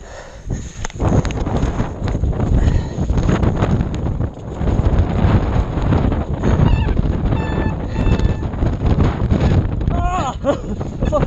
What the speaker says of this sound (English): That wind just goes like that.